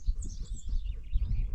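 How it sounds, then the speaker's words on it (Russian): Birds sing and chirp outdoors along a mountain road in Kyrgyzstan after overnight rain, with a moderately loud chorus of tweets and short calls over a low rumble. "Птички поют."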